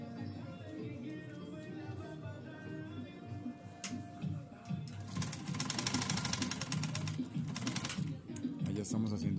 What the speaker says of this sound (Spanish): Ahí ya estamos haciendo solo costura recta